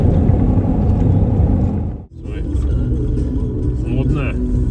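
Off-road jeep rumbling as it drives away, loud, steady low engine and road noise that briefly drops out and then resumes, with people talking over it.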